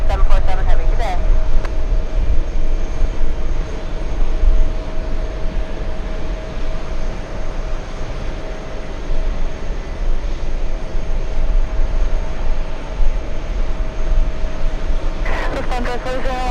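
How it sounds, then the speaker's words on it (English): A Lufthansa airliner taking off at JFK airport, a broad steady roar of jet engines sustained throughout with a faint tonal whine, heard from a distance while people talk over it. "Lufthansa's about to take off."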